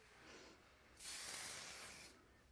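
An aerosol hair shine mist sprays in one steady hiss of about a second, close and fairly loud, after a fainter earlier puff, in a quiet room.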